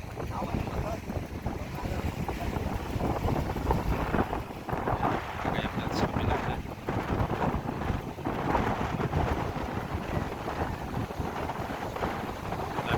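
Strong wind buffets the microphone at a seashore where fishing boats set out on big waves, a continuous loud rushing roar with waves churning beneath and occasional faint voices.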